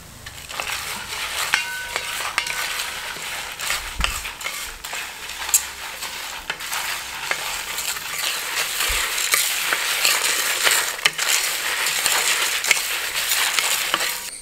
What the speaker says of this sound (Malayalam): കാരണം നമുക്ക് ലൈറ്റ് ഫ്ലെയിമിൽ വറക്കാം.